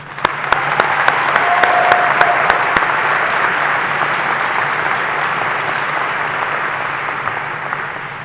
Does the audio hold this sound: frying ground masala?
no